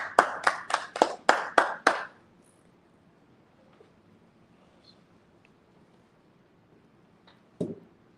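Congregation clapping together at a Sabbath service, seven sharp claps in a steady rhythm, loud and close, then near silence with one more faint clap near the end.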